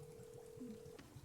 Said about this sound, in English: I don't know why it's making phone noises